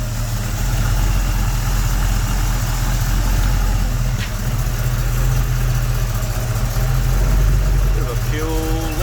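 A Scion xB coupe engine idles close by with a loose fuel fitting leaking: a steady, loud low rumble runs unbroken throughout, with a brief faint chirp near the end.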